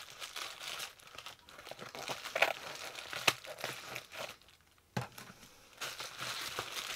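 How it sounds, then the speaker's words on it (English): Crinkling and rustling of plastic packaging with a couple of sharp tearing rips, handled up close in irregular bursts. "Rip into this package"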